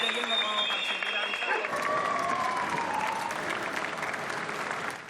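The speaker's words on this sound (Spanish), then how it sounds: "Se interrumpió, se convirtió en aplausos, en muestras de agradecimiento" Neighbours applauding from balconies during lockdown, a broad, sustained clapping across the street mixed with tonal whistles or sirens early on, continuous and moderately distant.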